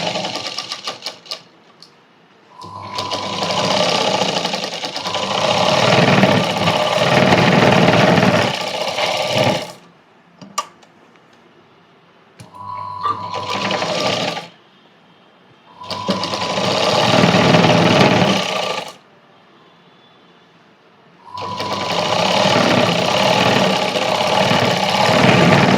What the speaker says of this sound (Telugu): ఇలా మనం సైడ్కి స్టిచ్చెస్ వేసుకోవాలి.